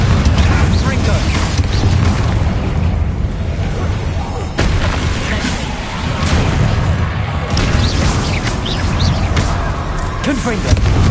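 Repeated Confringo fire spells cast in Hogwarts Legacy, giving loud booming blasts and crashes over a continuous rumble of combat noise, with voices mixed in.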